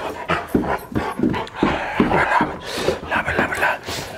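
A dog pants rhythmically at close range, with whimpers and soft whines mixed into the quick breaths, and no one speaks.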